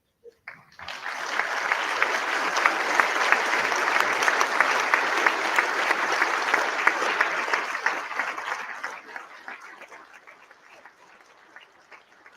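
Mourners at a funeral stand and applaud, a broad, sustained round of clapping from a large gathering that starts abruptly, holds strong for several seconds, then thins and fades toward the end.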